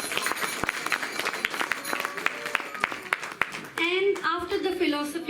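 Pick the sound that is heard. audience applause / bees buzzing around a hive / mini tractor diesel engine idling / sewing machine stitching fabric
audience applause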